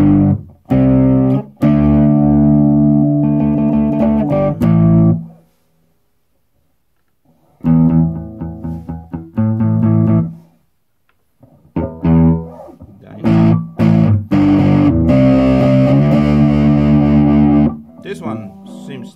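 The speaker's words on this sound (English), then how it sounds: "Give you a lot of distortion" Distorted electric guitar chords through a Zoom G3Xn multi-effects pedal ring out in bursts separated by silent gaps, loud and thick with sustained crunchy harmonics.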